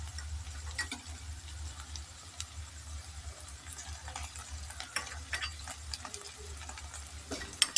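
Onions frying in a pan with garlic and ginger paste, stirred by spoon: a steady low sizzle with scattered scraping and clicking taps throughout, no talk.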